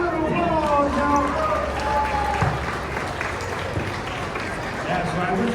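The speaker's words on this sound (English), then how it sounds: "Give him a round of applause, y'all." An audience at a VidCon creator event claps in a broad, sustained burst of applause while voices talk over the crowd noise.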